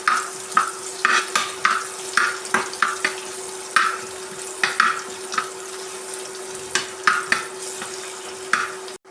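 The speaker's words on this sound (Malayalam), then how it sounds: "സവാള നന്നായി ഒന്ന് ബ്രൗൺ കളറാകുന്ന വരെ ഒന്ന് വഴറ്റിയെടുക്കാം." Onions sautéing in a pan until brown, with repeated stirring scrapes over a steady background hum and sizzle, fairly close and moderately loud, no talking.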